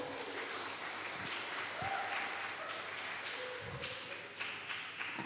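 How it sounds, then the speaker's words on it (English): An audience at a university public lecture on the history of Islam in Lombok applauds a keynote speaker, giving a moderate, fairly distant burst of clapping that runs steadily through the whole stretch with a few sharper taps near the end. "Please give a big applause for her."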